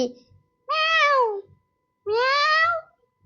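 Two loud, drawn-out meows from the cat in the horror video game Granny chapter 3, each rising then falling, separated by a short pause and alone with no talk.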